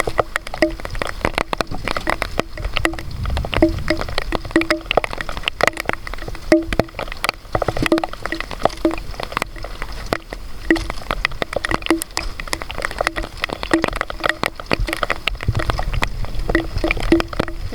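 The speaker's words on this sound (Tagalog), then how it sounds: "Lakas ng ulan." Heavy rain during a night spearfishing trip in the Philippines: a loud, steady hiss and patter of falling water with scattered sharp drips and splashes, continuous throughout and close by.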